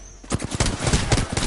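Rapid gunfire from Apex Legends, a burst of closely spaced loud shots lasting about a second, sharp and near.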